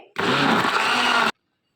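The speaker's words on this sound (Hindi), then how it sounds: "बर्फ़ डाल के हम इसको दोबारा से अच्छे से ब्लेंड करेंगे।" A countertop blender whirs loud and steady at full speed for about a second, crushing ice into a milkshake, then cuts off abruptly into silence.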